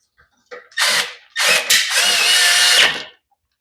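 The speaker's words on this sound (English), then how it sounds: "I'll throw our 2 3/8 bolts back on." Power tool driving 2 3/8 bolts back onto a Quantum engine, two close, loud bursts of whirring and ratcheting, the second longer, with short pauses between and no talk.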